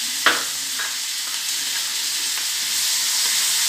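Onion with garlic and ginger fries in a hot pan for paneer butter masala, a constant close sizzle with a sharp clink as it goes in and light scraping stirs.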